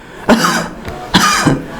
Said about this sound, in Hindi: बाहर की ओर निकालते हुए खांसी करनी है आपको इस तरह से